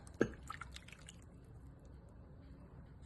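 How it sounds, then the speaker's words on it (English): Pumpkin puree and oil go into a Bosch mixer bowl: one soft, close plop followed by faint, quiet dribbling in an otherwise hushed kitchen. "In my bosh, I am going to add some pumpkin puree, oil"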